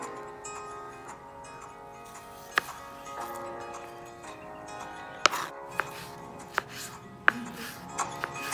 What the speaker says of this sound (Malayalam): ഉരുളക്കിഴങ്ങ് സെയിം മെത്തേഡിൽ തന്നെ ഈർക്കില്ലി പോലെ തന്നെ വേണം അരിയാൻ